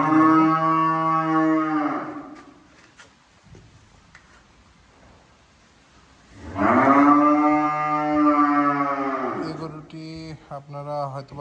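Two long, loud moos from native Bangladeshi cattle on a farm sound close by, separated by a quiet pause, with a few faint clicks and shorter calls near the end.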